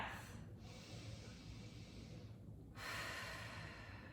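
Slow, deep breaths taken while resting in yoga child's pose during a beginner mobility session, with a long inhale, a pause, then a soft audible exhale, close and quiet.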